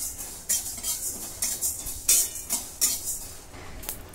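Cinnamon, cloves and coriander seeds being dry-roasted in a pan, with a quiet, steady series of metallic scrapes and clinks from the stirring spoon, about two a second, close and clear with no talk.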